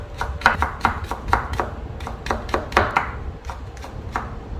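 Knife slicing carrots into thin julienne strips on a cutting board, a quick series of about a dozen crisp, close chopping taps in a steady rhythm with brief pauses.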